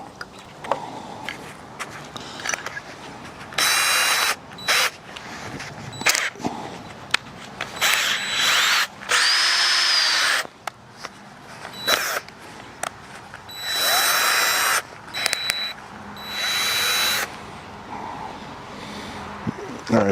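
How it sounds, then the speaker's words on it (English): A power drill with a 9/16-inch bit whirs in repeated short bursts, starting and stopping several times, with a few clicks and handling noises between runs. "so now I want to drill this into the top of this piece"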